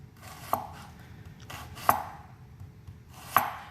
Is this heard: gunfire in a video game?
no